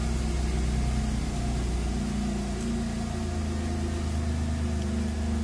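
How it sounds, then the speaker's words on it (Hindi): Renault Kwid petrol engine idling just after being started, a steady low rumble with an even hum that holds for several seconds with no talk over it. "ये हमने गाड़ी चालू किया"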